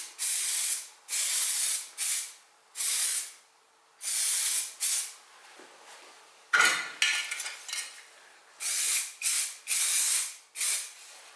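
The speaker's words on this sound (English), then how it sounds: "I'm going to put some primer, weld through primer on both pieces." Weld-through primer hisses from an aerosol can onto metal repair panels for a 1973 VW campervan, in close, sharp spray bursts of about a second each, separated by brief pauses, with one rougher, more rattly burst midway.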